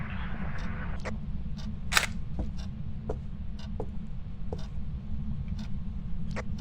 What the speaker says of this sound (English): I'm going in to get a picture of Ross's body